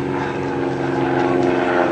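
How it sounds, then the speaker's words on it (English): A propeller aircraft drones overhead on an attack run, a steady loud engine hum with a strong low tone, close and continuous throughout. "We have our next aircraft coming in and doing the damage"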